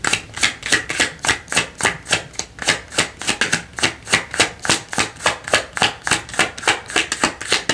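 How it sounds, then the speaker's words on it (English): Tarot cards shuffled by hand in a quick, steady run of crisp papery riffles and flicks, close and fairly loud with no talking. "I'm going to do one more shuffle through."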